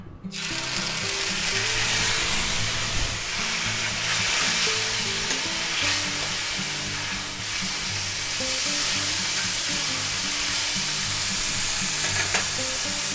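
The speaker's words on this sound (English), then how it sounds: "Okay, our pan's nice and hot. So we're going to go ahead and put 2 tablespoons of minced garlic in there." Two tablespoons of minced garlic sizzle in hot oil in a preheated pan for a stir fry, a loud, continuous crackling hiss close by, with repeated rhythmic scraping and clicking from stirring running underneath.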